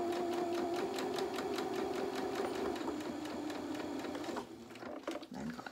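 A sewing machine stitching the leg of small doll's French knickers, a close, fast even whirr of needle strokes for about four seconds before slowing and stopping, followed by faint handling noises.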